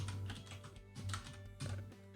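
Typing a command on a computer keyboard: a few quick bursts of key clicks with short pauses between them, close and fairly quiet, no speech.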